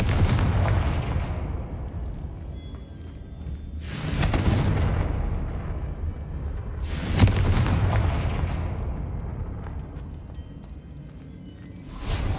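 Confringo fire spells exploding in the PC game Hogwarts Legacy: three heavy, booming blasts spaced a few seconds apart, each rolling out into a long rumbling decay over constant low background noise.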